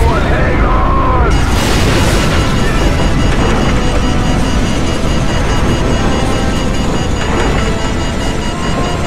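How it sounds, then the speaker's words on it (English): A nuclear explosion in the video game Call of Duty 4: Modern Warfare on Xbox 360 erupts as a huge, loud, continuous rumbling blast with roaring debris filling the whole stretch, while voices are faintly present. "What appears to be an explosion of epic proportions."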